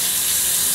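A tap runs steadily while a basin is rinsed, giving a loud, continuous gush of water with no talking and no interruption.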